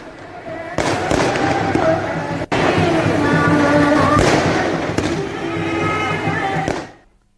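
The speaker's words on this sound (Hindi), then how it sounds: "इस दौरान लोगों ने जमकर आतिशबाजी भी की।" Dense, loud Durga Puja fireworks crackle and pop continuously on the banks of the Saryu river, with sharp bangs over a background crowd murmur, fading out at the end.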